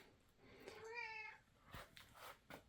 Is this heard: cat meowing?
yes